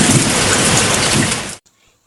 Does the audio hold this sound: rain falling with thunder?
yes